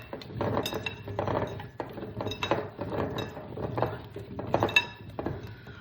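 Seasoned potatoes and onions being tossed with salt for an oven-roasted pork tenderloin dish: close, repeated clinks and knocks of utensils against a glass or ceramic bowl in a busy, irregular rhythm, with no voices.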